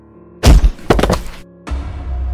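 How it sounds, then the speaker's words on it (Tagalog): Loud thud in a house kitchen at night, a sound effect in an animated horror story: a heavy impact followed by a second banging knock, then a low rumbling tail after a brief pause. "bigla ako naalimpungatan dahil sa lagabog na narinig ko sa kusina ng bahay namin"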